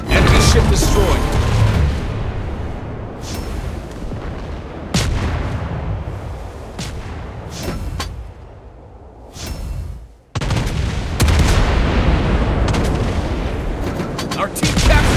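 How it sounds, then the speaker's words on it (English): Anti-aircraft and naval gunfire in the World of Warships naval combat game: repeated loud booming shots and bursts over continuous battle noise, with a drop to near quiet around ten seconds before the firing resumes. "Anti-aircraft gun on full alert."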